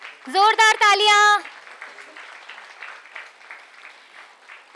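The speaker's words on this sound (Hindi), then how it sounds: "जोरदार तालियां।" An audience applauds at a Nehru Centre event welcoming a well-known author; a brief announcing voice comes first, then steady, moderately loud clapping fills the rest.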